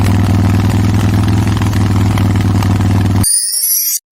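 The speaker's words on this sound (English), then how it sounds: "Motorcycle." A steady, loud engine runs with a low rhythmic throb, then cuts off abruptly near the end, followed by a brief high-pitched tone.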